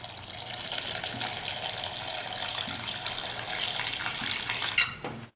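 About one and a half glasses of water poured into a cooking pot holding a large tomato, a steady close gushing stream that runs for several seconds and then stops abruptly, with no talk over it.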